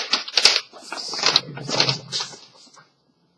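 Crinkling and rustling of a sturdy paper shopping bag with a flat bottom, handled close up in a series of crisp bursts that fade out near the end.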